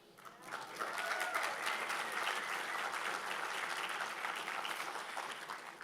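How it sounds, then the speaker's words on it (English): Crowd applause at a mayor's budget address, rising quickly from quiet into sustained clapping by many people, heard from some distance and fading slightly near the end. "we could give one more round of applause for everyone who dreamed, who designed, and who built this space"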